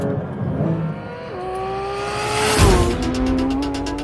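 Porsche 911 992 GT3 RS on a racetrack at over 100 mph, its engine note rising steadily through the revs, a quick drop at a gear change and then climbing again, loud and close, with no talking.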